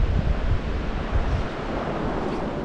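Wind buffets the microphone and waves wash among rocks during fly fishing, a steady rough roar with stronger low gusts at the start and no voices.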